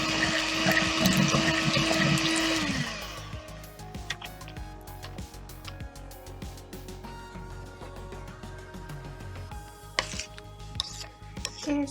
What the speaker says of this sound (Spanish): Lo que vamos a hacer aquí será batir la mezcla un poco a baja velocidad.